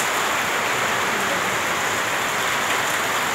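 Steady downpour of heavy rain that has gone on since the day before under a uniformly clouded sky, a loud, continuous wash of hissing drops with no pauses.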